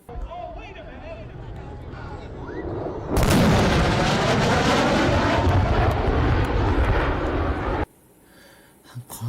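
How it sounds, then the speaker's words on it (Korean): Supersonic aircraft passing overhead, a low engine rumble building until a sudden loud sonic boom bursts in and roars for several seconds before cutting off abruptly, with faint sound returning afterward. "초음속 비행에 의한 충격파는 아래 그림처럼 꽃갈 모양으로 퍼져나가며 이 충격 파면이 관측자에게 닿는 순간 꽝 하는 파열음으로 들립니다"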